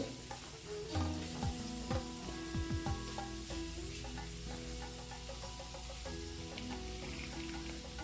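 Urad dal sizzling and frying in hot oil for coriander rice, a steady close crackle with a few stirring scrapes near the start, continuous throughout with no voices.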